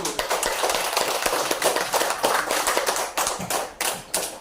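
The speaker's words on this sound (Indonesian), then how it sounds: "Beri turut tepuk tangan yang meriah kepada kelompok 1" Classroom students clapping for group 1 during an integrated learning practice session in Medan, a close, lively burst of many hands with sharp individual claps standing out and tapering toward the end.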